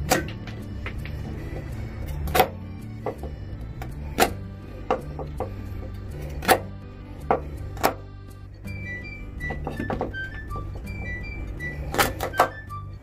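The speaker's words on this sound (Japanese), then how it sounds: "まずはちょっとヘタを切っちゃいます。" A knife taps and cuts okra stems against a cutting board in several sharp, separate strikes, with quiet kitchen handling sounds between them.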